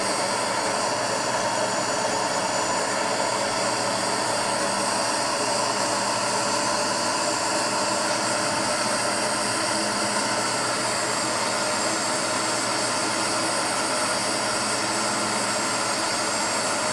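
Steady, continuous drone of an airliner's engines in the flight simulator game Infinite Flight, a dense unchanging roar with no talk.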